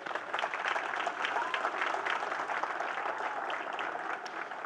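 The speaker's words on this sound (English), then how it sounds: "let's give a round of applause to our seniors that are here" Audience applause for seniors at a city address, a dense sustained wash of many hands clapping that holds steady and loud, with some cheering mixed in.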